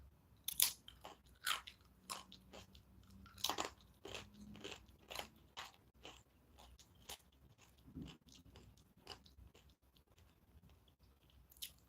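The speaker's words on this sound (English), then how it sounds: "Some blue corn and black seed tortilla chips." Blue corn and black seed tortilla chips crunched up close, a run of sharp bites and chewing at an irregular rhythm, with no talking.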